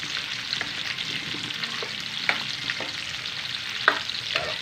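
Cabbage with potatoes and ground meat sizzles in a pan while being stirred, a steady frying hiss broken by scraping strokes of the spoon, close and alone without talk.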